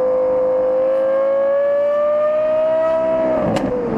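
A dream car's engine played back from an online clip, a sustained rising whine with strong harmonics climbing steadily in pitch like a long rev, loud and continuous, with a brief sharp burst near the end.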